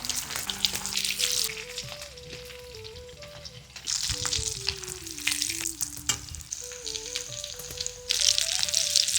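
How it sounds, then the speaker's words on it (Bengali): Potato-stuffed flour rolls fry in hot white oil in a kadai, a loud continuous sizzle with crackling bursts as they go in, with background music running underneath. "এখন আলুর রোলগুলো ছেড়ে দিচ্ছি"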